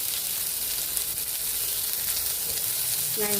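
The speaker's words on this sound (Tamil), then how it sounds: "கடுகு நல்லா பொரிய ஆரம்பிச்சிடுச்சு." Mustard seeds with urad dal and cumin sizzle and pop in hot oil in a pan, with onion going in. A steady, close hiss carries throughout with fine crackling.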